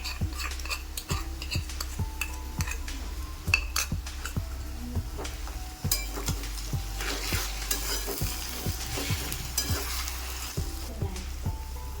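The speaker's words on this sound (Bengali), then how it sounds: "এবার এর মধ্যে আগে থেকে রেডি করে রাখা আদা রসুন আর লঙ্কার পেস্টটাকে দিয়ে দেবো" Ginger, garlic and chili paste fries in a pan for chicken bhuna, a soft sizzle broken by repeated sharp scrapes and taps of a spatula against metal in an uneven stirring rhythm.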